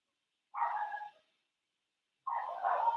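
Dogs bark twice, two short close barks separated by a second of silence, each loud and abrupt.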